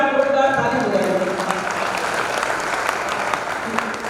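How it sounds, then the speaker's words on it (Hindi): A live audience at a Hindi poetry gathering (kavi sammelan) bursts into sustained, dense applause, a steady wash of clapping that holds at full strength through the whole stretch with no talk over it. "एक बार जोरदार ताली बजाइए"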